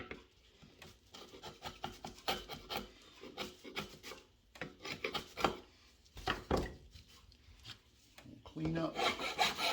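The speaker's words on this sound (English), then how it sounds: "So a little touch up with a chisel, clean the corner up." Chisel paring and scraping wood to clean up a corner joint of a pie crust table, a close series of irregular rubbing, rasping strokes with short pauses, working alone with no talk.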